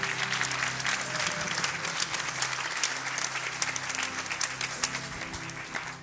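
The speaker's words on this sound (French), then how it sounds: "On peut applaudir Jamel qui va venir me voir." An audience at a church baptism service gives Jamel sustained, lively applause, with close, irregular claps filling the whole stretch before tapering slightly at the end.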